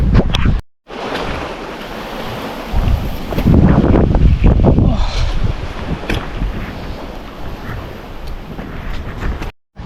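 Surf at Nipah beach on Pulau Nasi, Aceh Besar, rolls in as a loud, broad wash of breaking waves mixed with gusty wind buffeting the microphone, swelling and easing over several seconds.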